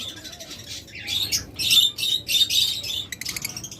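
Pet birds such as mynas, starlings, lovebirds, budgerigars and cockatiels calling in a bird shop, with bursts of shrill chirps and squawks that come close together, near and fairly loud, with no talk.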